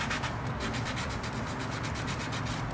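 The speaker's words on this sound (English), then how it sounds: "But what you want to do is just sand it down." Sandpaper rubbed by hand across a car fender, a steady, close, rhythmic scratching in quick repeated back-and-forth strokes with no voices.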